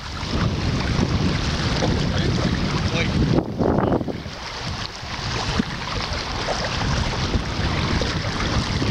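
Wind and waves rush around an inflatable raft on open water; a steady, loud blustery roar with microphone buffeting and splashing, and a brief louder gust midway, with no clear talk.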